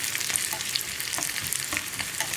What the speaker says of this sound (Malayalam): ഇതിലേക്ക് നമുക്ക് വറ്റൽമുളകും കൂടി ചേർക്കാം.